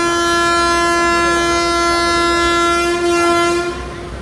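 A diesel-hauled Mangaluru–Mumbai Superfast Express sounds a long, loud, steady horn blast while departing Bhatkal station, with rumbling wheels beneath, the horn fading out at the end.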